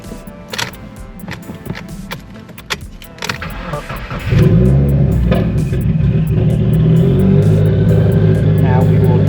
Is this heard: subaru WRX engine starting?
yes